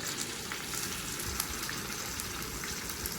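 Garlic, green chillies and cumin frying in hot oil, a dense, even crackling sizzle that holds steady throughout at moderate level.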